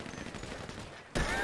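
Rapid game gunfire in GTA Online's Drop Zone adversary mode crackles steadily as a dense volley, then a louder, harsher burst erupts near the end.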